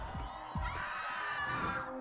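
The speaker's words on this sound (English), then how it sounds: "That wasn't a happy to see us scream" A character in the Minecraft Story Mode video game lets out a long, wavering scream over game background noise, fairly close and moderately loud.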